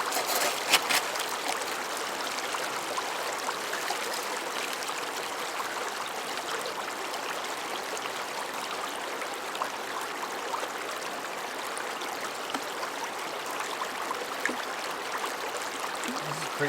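Stream water flowing steadily over rocks at a gold prospecting spot, a continuous broadband rush and trickle heard close and even throughout, with no talk over it.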